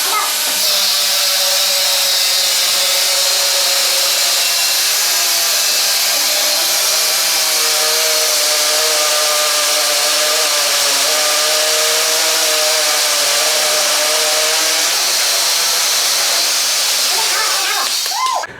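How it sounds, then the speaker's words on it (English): Cordless Milwaukee, Makita, Metabo and Bosch angle grinders, one a 40-volt Makita, racing at a trade show to cut through material, a loud continuous high-pitched whine and hiss held steady throughout with crowd noise in the background. "they've done a grinder race basically, which can cut something first"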